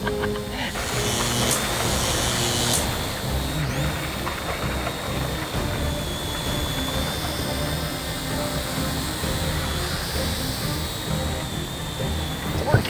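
Toy drone flying outdoors near a toy T-Rex, its rotors giving a steady whining buzz that holds at the same loudness throughout, with a faint higher tone drifting above it.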